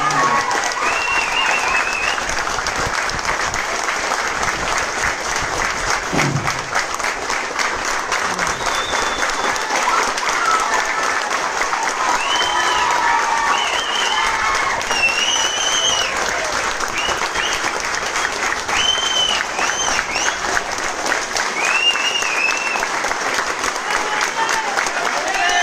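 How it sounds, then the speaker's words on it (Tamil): A large crowd claps continuously at a Tamil political rally speech, a loud, sustained wash of applause with whistles and shouts scattered over it and voices faintly underneath. "இந்த மாதிரி ஒரு கைத்தட்டு"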